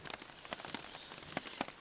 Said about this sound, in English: Let's hope this rain stops this morning.